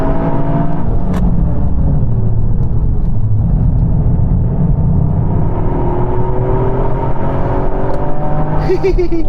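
Toyota GR Yaris engine on a track, rising and falling under load with steady harmonic drone throughout and a rev climb near the end, with someone talking over it.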